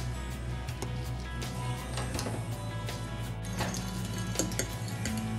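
Egg and Parmesan cheese being mixed in a bowl, light scattered clinks and taps of a utensil against the dish over a steady low background hum, faint and close, with no talking.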